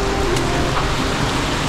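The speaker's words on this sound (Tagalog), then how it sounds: "Grabe, lakas ng ulan." Heavy rain pours down on the road through Tagudin and Bessang Pass, a loud, dense, unbroken hiss close by with no other sounds.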